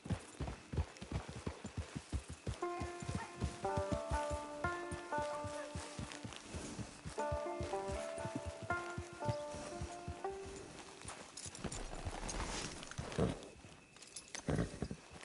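Horse hooves clip-clop steadily through Red Dead Online, a rapid even rhythm running under a melodic music score, moderately loud and continuous throughout.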